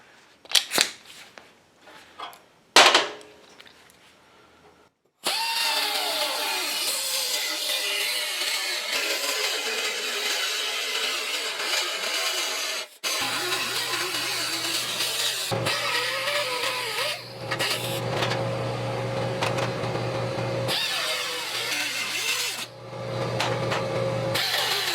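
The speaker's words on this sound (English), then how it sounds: "I'm going to use a little cutoff wheel to make that happen" A small cutoff wheel slices through sheet metal on a 1968 Mustang fender, a loud, steady high-pitched grinding whine that runs continuously for most of the stretch with brief dips, after a few sharp knocks at the start.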